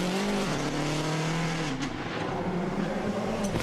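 A WRC rally car on the 2007 Monte-Carlo Rally, driven by Solberg into the swimming pool complex, roars loud and close with a steady, harsh engine note held flat out throughout.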